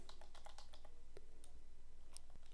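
Quick, light keystrokes on a computer keyboard while typing text, an irregular patter of clicks over a steady electrical hum, heard alone without talk.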